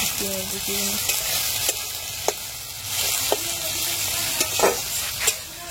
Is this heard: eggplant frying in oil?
yes